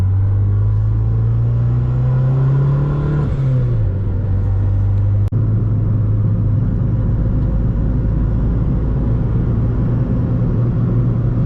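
A turbocharged Honda Civic engine with a catback exhaust drones steadily and close, its pitch rising slightly then dropping as it shifts, with a low exhaust rumble and a brief click midway.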